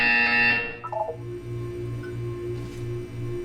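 A buzzer sounds in the video game Portal 2: a bright sustained electronic tone cuts off after half a second, followed by a steady series of low pulsing buzzes repeating under a faint background hum.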